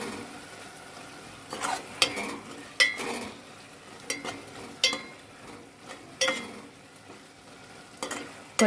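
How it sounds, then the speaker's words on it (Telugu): A spoonful of paste frying in a pan for an Andhra cashew, drumstick, egg and prawn curry, with a soft steady sizzle broken by repeated scraping stirs of a spoon against the pan, fairly close and with no talking. "దీన్ని కూడా మంచిగా వేయించుకోవాలి,"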